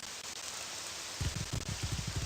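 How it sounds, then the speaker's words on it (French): Steady rain falls in the game Morrowind as a soft even hiss, and someone speaks over it partway through. "En plus, il pleut. Je dors, mais il pleut."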